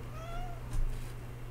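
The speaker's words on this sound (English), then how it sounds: "there's a cat in my room, by the way." A cat meows indoors in a room, a single short, fairly faint meow followed by a soft thump, heard over a low steady hum with no talking.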